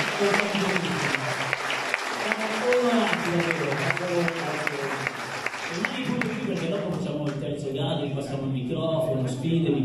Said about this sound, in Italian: noi ovviamente lanciamo un grande applauso per il vincitore